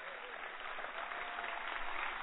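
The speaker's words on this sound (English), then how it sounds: "So let's all give them a real standing round of applause." Standing round of applause at a National Ignition Facility dedication ceremony, a broad steady roar of many hands clapping across a large hall, sounding muffled and bandlimited, with no pauses throughout.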